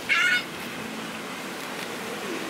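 Bird giving a single loud, goose-like honk right at the start, close by and brief, followed by quiet outdoor ambience.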